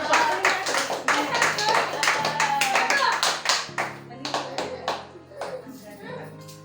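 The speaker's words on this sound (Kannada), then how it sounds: "ಮನದಾಳದಿಂದ ಜೋರ ಚಪ್ಪಾಳೆ ಮುಖಾನ ಸ್ವಾಗತಿಸಿದೆ." Loud clapping from a crowd gathered to welcome a guest at a children's birthday celebration in Hanagal taluk, with sharp claps running through the whole stretch over a steady hum and some talk.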